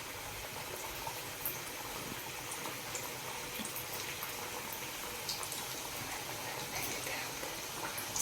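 Kaja sweets frying in warm oil on a low flame, a soft, continuous bubbling and crackle with small pops scattered throughout, fairly quiet.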